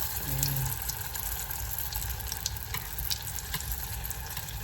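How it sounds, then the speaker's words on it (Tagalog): Steady sizzling and crackling of vegetable spring rolls frying in hot oil, a continuous close hiss with faint clinks over it. "mainit na yung aking mantika. Iprito ko na siya"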